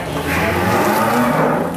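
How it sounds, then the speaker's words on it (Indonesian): A large Angus bull on an Indonesian cattle farm gives a loud, sustained moo that fills the whole moment, close to the listener, with no talking. "Sapinya ngeri, sehat-sehat."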